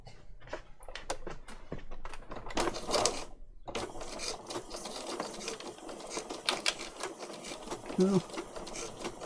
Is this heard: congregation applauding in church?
no